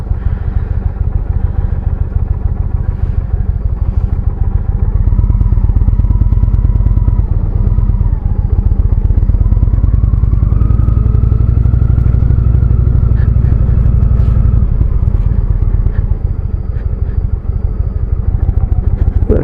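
A motorcycle engine runs loud and close throughout, its deep throbbing note climbing as it revs up, holding a steadier higher drone through the middle stretch, then easing back down toward an idle-like rumble.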